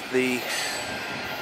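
A Norfolk Southern freight train, NS-233 heading west, rolls past with a steady rumbling rush, a brief squealing tone near the start, and a faint word spoken over it.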